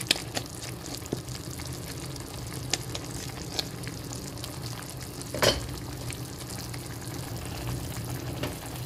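Spaghetti with seafood and cooking cream is stirred in a pan, giving a steady soft sizzle and bubbling with scattered utensil scrapes and clinks, and one louder clatter midway.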